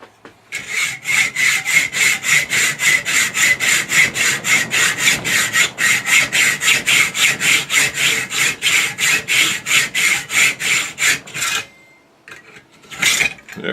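Hand sawing through a wooden saddle block for an aircraft airframe rotator stand, about two dozen rhythmic back-and-forth strokes, loud and close, ending as the cut breaks through, followed by a couple of handling knocks.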